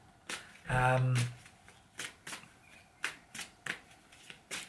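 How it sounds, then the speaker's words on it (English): A deck of reading cards is shuffled once, a loud riffle of close, rapid card flicks lasting about half a second, followed by a few quieter sharp card taps and slaps. "Let's pull some cards"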